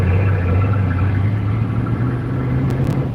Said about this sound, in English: It has a very distinctive V12 sound